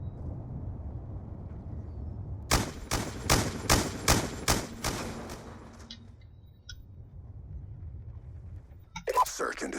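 Call of Duty gunfire on the Hijacked map, a rapid burst of about eight sharp, evenly spaced shots followed by quieter game sounds and a few more clicks and cracks near the end, with a voice talking underneath.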